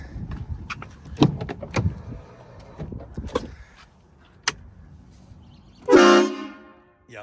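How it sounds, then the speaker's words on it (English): Clicks and knocks of handling at first, then a sudden very loud, harsh blast from an aftermarket truck horn on a 2025 GMC Sierra Denali Ultimate HD, lasting about a second, close by. "Very, very, very loud horn."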